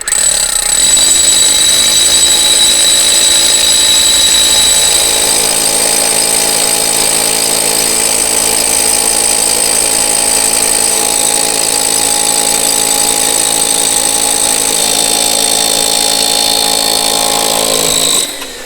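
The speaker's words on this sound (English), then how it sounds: "Let the drill do the work." Electric drill boring steadily into a wall until it reaches timber behind, a loud continuous whine with a dense high-pitched tone, a small shift in pitch around five seconds, running alone for about eighteen seconds before stopping.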